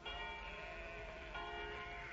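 A monastery church bell near Rome in the film The Omen rings with a sustained, shimmering resonant tone, a steady ringing sound that swells again partway through, heard alone without talk.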